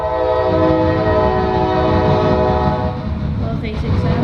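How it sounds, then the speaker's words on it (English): A Norfolk Southern coal freight train passes close and loud, with a sustained horn-like tone and heavy rumble of rail cars running steadily throughout. "Ooh, got a coal train."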